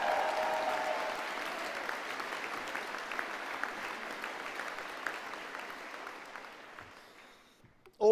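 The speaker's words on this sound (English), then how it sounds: "And maybe a cheer for Kirsty Blair as well" Graduation ceremony audience at the University of Stirling applauding and cheering for Kirsty Blair, a steady sustained clapping that fades out toward the end.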